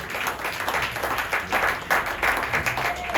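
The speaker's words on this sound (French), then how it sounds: "Et vous pouvez l'applaudir encore une fois." Applause from the crowd at a Pointe-à-Pitre campaign list presentation welcomes a candidate, a steady wash of clapping that stays moderate and even and runs the full length without talk.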